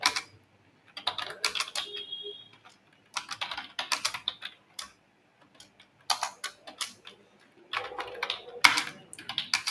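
Fast typing on a computer keyboard during a typing-test drill: close, crisp key clatter in uneven bursts with short pauses between runs.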